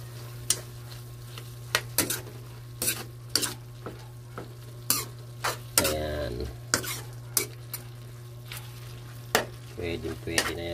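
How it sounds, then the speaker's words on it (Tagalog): Food seasoned with pepper and vetsin fries in a pan with a constant low sizzle. A utensil clacks and scrapes against the pan in repeated irregular stirring strokes, close and distinct. "Ngayon, haluin lang natin,"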